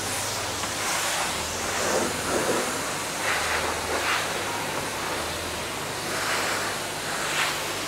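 Coin-operated car wash wand spraying water onto a car, a steady broad hiss of spray running continuously throughout, fairly close, with no voices over it.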